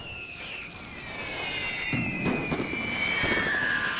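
Mortar shells burst in a World War I strategy game, The Great War 6.0, as a string of dull, distant thuds under a descending whistling tone and a steady battlefield rumble.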